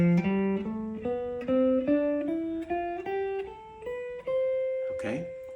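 Single guitar notes climb step by step up a scale on the first and second strings to a high C, about a dozen evenly plucked tones, each ringing clearly and close, with a brief spoken sound at the very end.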